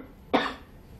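A single short, harsh cough from an adult speaker, close to the microphone, bursting out once and fading quickly into quiet room tone.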